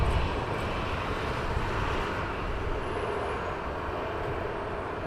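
Airbus A320 landing at Heathrow Airport, a steady broad jet roar held at constant loudness throughout, close and continuous with no voices.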